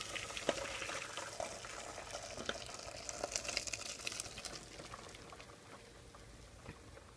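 A heavy hot pan of cooked succotash vegetables being drained into a strainer, with a steady hissing, splashing rush of water and steam running for several seconds at moderate, close range.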